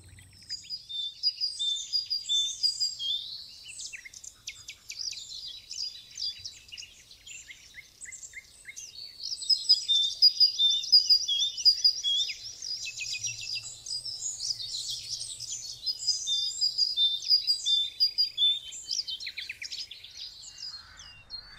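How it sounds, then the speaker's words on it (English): Great Tit (Parus major) song outdoors: bright, high whistled phrases repeated in long series, steady and moderately near, with a short pause midway before the singing resumes, no voices. "The basic melody of the Great Tit consists of a sequence of three whistles repeated in long series, the first two of which are higher and the third lower."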